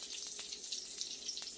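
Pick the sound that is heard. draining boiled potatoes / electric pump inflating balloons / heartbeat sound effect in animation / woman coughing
draining boiled potatoes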